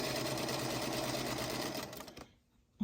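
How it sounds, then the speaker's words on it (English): A sewing machine stitches around a circle of fabric with a steady close whirr that slows and stops near the end, followed by a brief click. "And I just simply sew around the circle."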